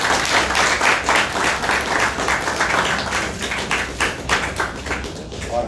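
Theatre audience applause welcoming the play's cast onto the stage, a loud, dense burst of clapping from many hands that continues throughout without talk.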